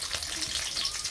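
Oil sizzles in a frying pan in a rural Bangladeshi kitchen, with a steady bright crackling hiss held at an even level throughout.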